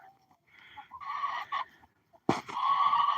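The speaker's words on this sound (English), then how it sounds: "Little chickens, little chickens." Small chickens cluck and call in short bursts at close range, a quiet gap in the middle before a louder, denser stretch of fowl vocalizing resumes.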